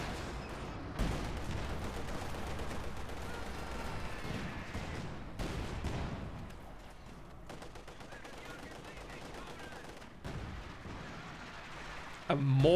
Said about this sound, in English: A mortar now for F3riG. A mortar! A freaking mortar!